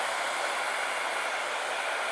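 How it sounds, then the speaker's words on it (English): A handheld hairdryer blows steadily on a taxidermy ear, a close, even rushing whoosh of air with no talking. "So I've got a hairdryer here."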